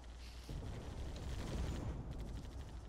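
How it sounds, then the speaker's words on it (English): A big explosion in the Halo Wars real-time strategy game, a loud broadband blast kicking in abruptly and rumbling on for a couple of seconds amid crackling battle noise, with rapid gunfire-like rattles near the end. "Holy shit, that was a big explosion."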